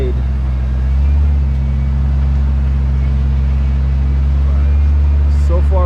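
A truck drives through deep snow in two-wheel drive on a sunny day, its steady low engine drone and road rumble constant and close, with someone talking over it.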